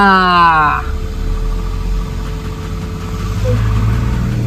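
A newly bought car's engine idles with a low, steady rumble throughout, close by, with a voice talking briefly over the opening moment.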